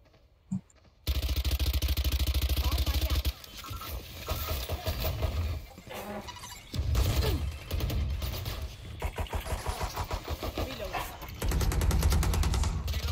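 Video game gunfire rattles in rapid automatic bursts, loud and close, broken by short pauses with mechanical clatter between volleys.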